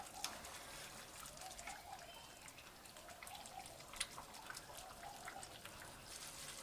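Water boils off spicy cholia (chickpea) rice in a cooking pot, with small bubbles popping in faint, scattered ticks and drips over a quiet background, with no one speaking.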